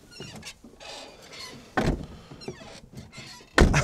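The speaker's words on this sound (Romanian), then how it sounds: "s-au scârție ușile foarte tare" Car doors creaking loudly on dry hinges, a series of short squeaks and groans followed by two loud thunks as the doors swing and close nearby, with no talking.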